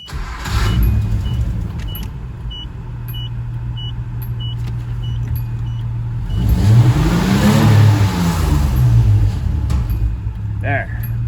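Car with a VG30i engine, recently cleared of limp mode, revs past 3,000 RPM; a loud, close engine holds a steady idle drone, then sweeps up and back down in a rising, falling rev.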